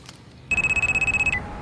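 Telephone ringback tone on an outgoing call, a steady beeping pulse of about a dozen rapid repeats starting half a second in and stopping abruptly, near and fairly loud, with quiet room noise before it.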